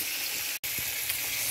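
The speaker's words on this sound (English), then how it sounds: "I'm frying my chicken wings." Chicken wings fry in a pan with a constant bright hiss of sizzling oil, close and steady, briefly cut by a short dropout; no talking.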